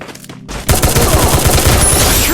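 Rapid automatic gunfire rattles loudly in the Free Fire video game, a dense continuous burst that starts abruptly after a brief quieter moment and carries on without pause.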